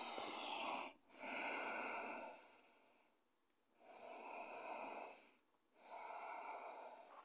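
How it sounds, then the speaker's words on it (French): Slow, deep breaths during a yoga pose, close and quiet, with long airy inhales and exhales separated by brief pauses, about two full breath cycles with no talking. "Encore 2 respirations."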